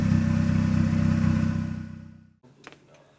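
A turbocharged Nissan S14 car engine, raised in the air with a loud modified exhaust, idles with a steady low rumble that fades away, followed by a few faint clanks and rattles.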